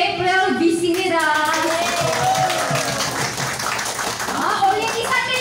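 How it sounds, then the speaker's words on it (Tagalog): An audience at a training presentation applauding to welcome a speaker on stage, the clapping running beneath a voice talking over a microphone throughout. "At milyon palakpak para kay Ma'am Lovely."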